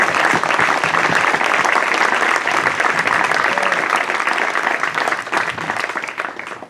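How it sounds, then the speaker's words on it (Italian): An audience at a memorial evening for a film director bursts into loud, dense applause that holds steady for several seconds and then begins to thin out toward the end. "A tutti indistintamente un'enorme riconoscenza e un grande applauso."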